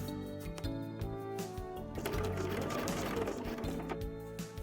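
A sewing machine running in short bursts, then a steadier faint whirring run while back stitching coat fabric containing spandex, quiet and close.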